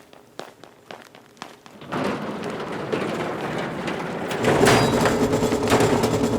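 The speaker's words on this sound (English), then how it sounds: "Sorry about the noise. We're one of the Greek's busiest printers." Rhythmic mechanical clanking of a printing press gives way to a loud, continuous industrial roar of heavy machinery, swelling louder near the end, with no talking.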